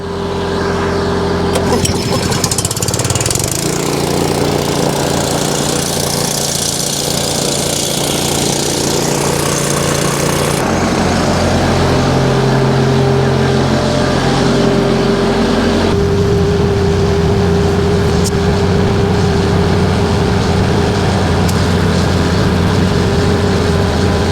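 A Bobcat 843 skid steer engine runs steadily and loudly close by after starting, a constant mechanical drone with clattering and shifts in pitch and load throughout, no voices.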